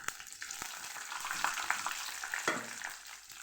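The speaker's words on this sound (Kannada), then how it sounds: "ಒಂದು ಸ್ವಲ್ಪ ಎಣ್ಣೆಲಿ ಹಿಂಗೆ ಕರ್ಕೊಬೇಕು ಚೆನ್ನಾಗಿ, ಸ್ವಲ್ಪ ಕೆಂಪಗಾಗಬೇಕದು" Four Byadgi dried red chillies frying in a little oil, a steady broad crackling sizzle with a few sharper pops and spatters, close and continuous throughout, no voices.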